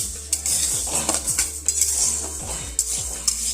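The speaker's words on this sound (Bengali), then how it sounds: "ডালটা একটু ভেজে নেবো, হালকা একটু ডালটা সামান্য একটু নাড়াচাড়া করে নেবো" Lentils for khichuri are lightly fried in a pan while a spoon scrapes and clinks against the metal in a steady rhythm over a low hum and faint sizzle, close by and without speech.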